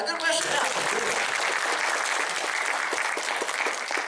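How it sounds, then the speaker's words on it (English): Audience applause at a fan convention Q&A panel, a dense, steady wash of clapping from a large crowd, loud and sustained throughout with a brief voice at the very start. "So, round of applause for that."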